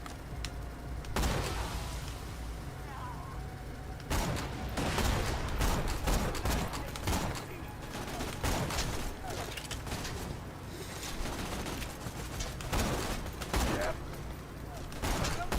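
Rapid bursts of sniper rifle fire in a video game, about four shots a second, loud sharp cracks repeating over a dense battle bed with other gunfire and a voice talking over it.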